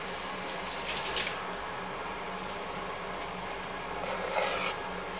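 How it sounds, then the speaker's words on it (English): A kitchen water tap runs steadily into a sink while Scotch bonnet chilli seeds are rinsed away, giving a constant broadband rush with brief louder splashy bursts near the start and end. "then you use your tap again to rinse away any of the residual seeds that are inside"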